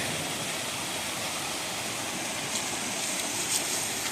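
Creek water rushes steadily in the Appalachian hills along the Appalachian Trail, a constant broadband wash near the listener with no voices.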